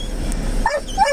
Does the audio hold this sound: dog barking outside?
yes